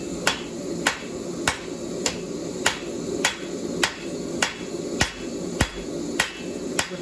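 A balanced hammer forges hot steel in a steady, even rhythm, about twelve ringing blows spaced roughly half a second apart, close and clear.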